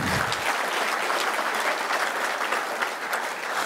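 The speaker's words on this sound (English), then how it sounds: "Please give her a round of applause." Dense, sustained applause from a large crowd honouring the First Lady at a Beyond Zero half marathon event, steady and loud throughout with no pauses.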